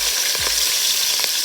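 Mustard seeds and green chillies fry in hot oil in a kadai, a steady bright sizzle with a few soft stirring scrapes and small pops, close and alone with no voices.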